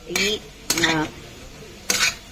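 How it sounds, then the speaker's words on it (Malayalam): Utensil clanking and scraping in a pan while elephant foot yam and shallots are sautéed in coconut oil, heard as three short, close metallic bursts with quiet gaps between them. "ഇതിങ്ങനെ കുറച്ച് നേരം വഴറ്റി കൊടുക്കും"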